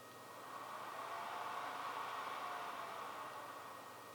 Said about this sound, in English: I'm noticing that the X100 does have some audible fan noise that spins up about every 15